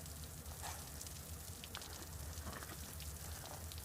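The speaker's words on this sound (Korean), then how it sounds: "비가 온다 우산도 없는데" Steady rain falling on a surface, a constant dense hiss with faint scattered drop ticks, continuous and even throughout with no voices.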